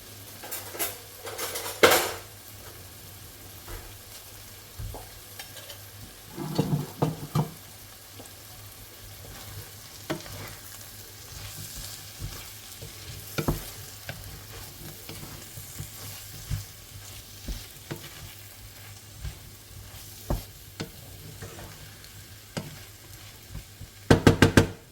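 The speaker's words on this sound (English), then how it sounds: "I'm going to mix the vegetables and the eggs together." Fried eggs and vegetables for fried rice are stirred in a pan, with a soft steady sizzle under repeated sharp scrapes and clinks of a utensil against the metal, close and fairly quiet.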